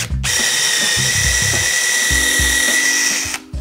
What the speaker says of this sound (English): you want to start with really light pressure because the drill bit does kind of just grab and go